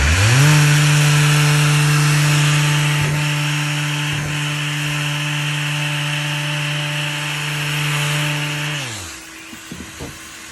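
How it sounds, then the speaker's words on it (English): A power sander fitted with a foam pad works over the routed profile of an MDF door, a loud steady motor drone with a constant hum running for about nine seconds before winding down and stopping. "I'm gonna let the pad float up into this profile now by adjusting the sander in the rotation or the articulation of the tool"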